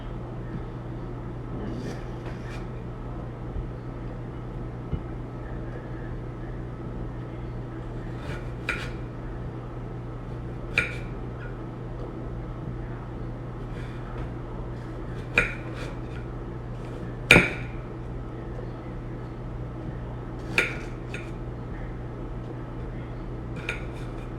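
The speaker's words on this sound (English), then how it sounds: "So I'm just cutting my apple bits up." Apple pieces are chopped for a green drink, with sparse, sharp knife taps on a cutting board spaced several seconds apart over a steady low hum.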